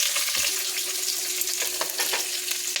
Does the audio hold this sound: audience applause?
no